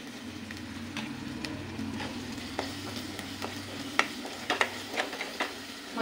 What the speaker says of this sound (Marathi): तेल सुटेपर्यंत मसाला परतून घ्यायचा